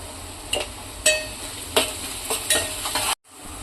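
Ginger garlic paste frying in oil, a steady sizzle broken by a few sharp scrapes and clinks of a spoon stirring in the pan, then a brief cut to silence near the end.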